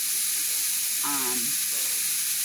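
80% lean ground beef frying in a pan for canning, a loud, continuous close sizzle and hiss, with a brief voice passing over it midway.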